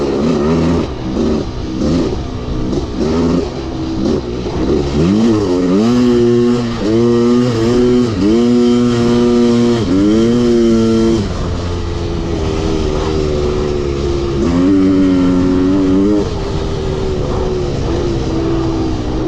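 A Kawasaki KX500 two-stroke dirt bike engine revs repeatedly and loudly up close, sputtering a little at low revs before cleaning out into sustained high-revving pulls with no talk.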